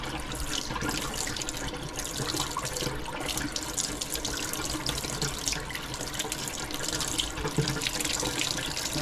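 Hot water runs steadily from a household tap into a sink on a home well system with a pressure tank, a continuous close hiss and splash with no talking.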